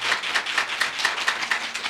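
A church congregation claps together in a steady rhythm, about four sharp claps per second, close and even, with no voices over it.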